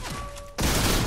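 Gunfire in the battle royale game Fortnite: a high tone cuts off into a sudden, loud, dense burst of rapid shots that fills the last half second.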